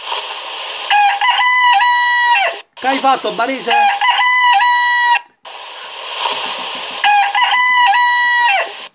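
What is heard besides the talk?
rooster crowing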